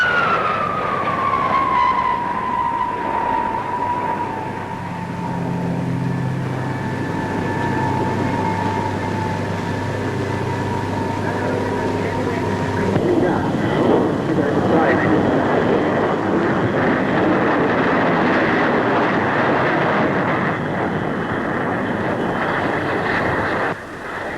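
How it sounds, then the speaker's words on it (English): A de Havilland 110 jet aircraft flying at Farnborough: a loud whining jet pass with a falling tone, then a broad roaring rush as it goes by, with a voice narrating over it. "Here is the de Havilland 110."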